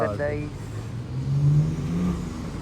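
A BMW arriving at a high school auto show gives a mid-pitched engine hum and a rising rev, heard moderately close beneath people talking.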